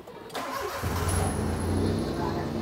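A car with a racing exhaust cranks and fires up, quickly settling into a loud, rough, throaty idle close by, with voices talking faintly underneath.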